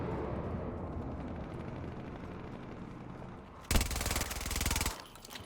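Submachine gun in the Battlefield 2042 video game fires a dense, loud burst of rapid automatic shots lasting about a second, standing out sharply over a low background rumble.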